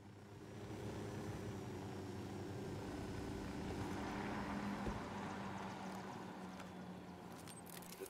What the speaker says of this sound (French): Je déploie le drone.